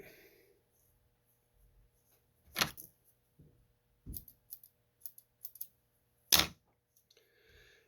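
Scissors cut the back fin of a fly-tying piece with several sharp, close snips scattered across near-silence, a couple louder than the rest.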